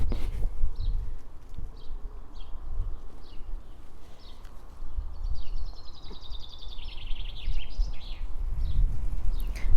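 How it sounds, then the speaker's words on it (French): Small birds chirp and trill in bursts over a steady outdoor hum, with one longer rapid warbling phrase midway, moderately close and alone without talk. "Je vous laisse écouter les oiseaux."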